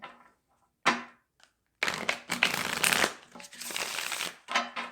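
Tarot cards are riffled and shuffled in close bursts: a quick riffle, a pause, then a longer run of crisp flicking and slapping.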